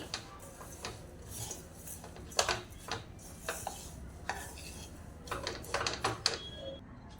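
Sesame mixture being stirred into jaggery syrup in a pan for tilgul laddoos, irregular quiet scrapes and clacks of a spoon against the pan, sticky and uneven in rhythm.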